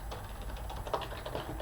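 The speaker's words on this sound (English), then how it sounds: "So if I start typing in something else here" Someone types text into a spreadsheet cell on a computer keyboard, a quick run of light, soft key taps over a faint steady hum, close and quiet, with no voices.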